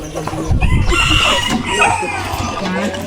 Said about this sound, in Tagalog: Ano pa lilipat mo dyan? Yung mga sisiw.